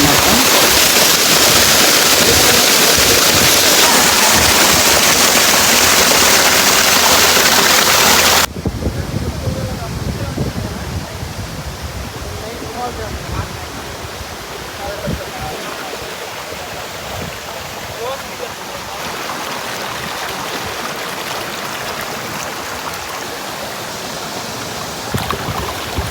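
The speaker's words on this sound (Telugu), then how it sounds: "మీరు ఇప్పుడు చూస్తున్నది నాగుల జలపాతం అన్నమాట." Nagula waterfall near Seethampeta roars as a steady broadband rush of falling water, loud and close at first, then somewhat softer and more distant after a sudden shift partway through.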